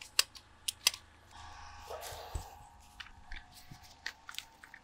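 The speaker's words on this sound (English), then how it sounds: "We're gonna cut a couple short pieces here." Short pieces being cut for a pump install at a rainwater harvesting tank, outdoors on ground covered in dried leaves: sharp close clicks followed by a brief rasping cut, then scattered snaps and taps.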